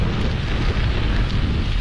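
A strong headwind buffets the microphone while riding gravel bikes on a long-distance route, a continuous close, loud rumbling roar with no speech.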